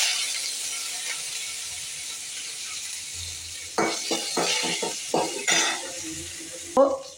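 Curry leaves and cumin sizzle in hot oil with a steady, close hiss, later broken by sharp spitting crackles and pan clatter.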